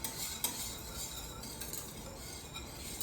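Flour whisked into pan drippings in a pan while making a sauce, a continuous close scraping and stirring with a couple of sharp metallic clinks against the pan, no talking.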